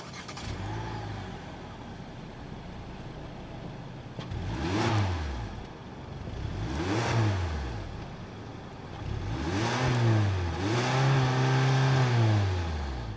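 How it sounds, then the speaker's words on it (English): Naturally aspirated 2-liter four-cylinder engine of a 2025 Hyundai Elantra SEL Sport revving at idle, several separate blips rising and falling in pitch, the last one held longer with a double rise before settling back. "that was the sound of the naturally aspirated 2-liter 4-cylinder"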